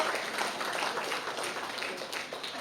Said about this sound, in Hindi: सुनील येवला साहब के लिए जोरदार तालियां